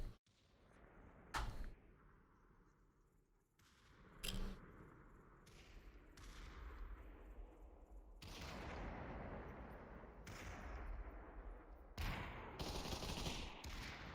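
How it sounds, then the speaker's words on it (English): Gunfire in the Population: ONE VR shooter during a competitive match, sharp bursts and single cracks spaced irregularly over a continuous background wash, some shots loud and near, others more distant. "Shooting from the high ground here"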